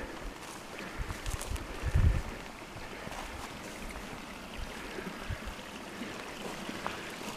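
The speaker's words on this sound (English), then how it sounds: "you can hear the water running through it" Water running unseen beneath collapsed karst rock at High Cup Nick: a faint, steady wash of trickling flow, low and distant, with a soft thump near the start and a light breeze over it.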